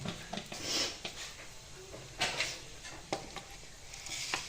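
Mustard seeds, cumin and garlic crackling in hot oil during tempering, a close run of sharp irregular pops and spits with scattered louder snaps throughout.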